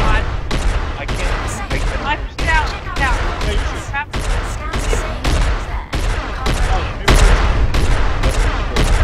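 Laser shots in the space game Starfarer come as a loud, steady series of sharp blasts, several per second in uneven bursts, with voices talking over them.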